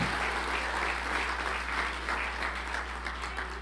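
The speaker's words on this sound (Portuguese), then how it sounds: "Ele vai agora receber outra vez o nosso aplauso." Church congregation applauding during a Portuguese-language sermon, a steady dense clapping that fills the whole clip at moderate level with no talk over it.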